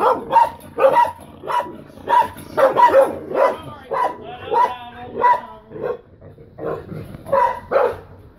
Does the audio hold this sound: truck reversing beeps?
no